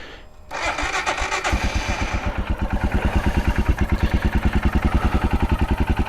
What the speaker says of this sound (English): starting the bike.